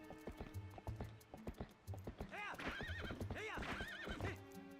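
Horse whinnies and galloping clip-clop hooves from the video game The Legend of Zelda: Twilight Princess HD, with repeated neighs over a steady rhythmic hoof beat, clear and up front.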